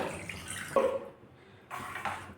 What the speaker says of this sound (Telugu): ఇందులో కొంచెం వాటర్ పోసి తొలిపి పోస్తున్నా.